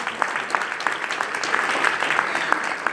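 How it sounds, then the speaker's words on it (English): A roomful of people applauds the guests at a promotion event, with steady, moderately loud clapping sustained for a few seconds without a break. "Can we give all the guests a round of applause?"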